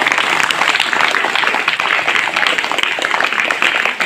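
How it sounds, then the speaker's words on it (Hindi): An audience at an Azadi ka Amrit Mahotsav function breaks into loud, sustained applause for honored guests, dense crowd clapping without a pause. "मैं चाहूँगा इन महानुभावों के लिए भी एक बार जोरदार ताली बजाना।"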